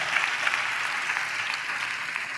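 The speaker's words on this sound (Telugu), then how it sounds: "చప్పట్లు కొడుతూ స్తోత్రాలు చెప్దాం" A congregation claps during a Telugu Christian sermon, a steady, dense wash of hand claps holding evenly throughout with no voices on top.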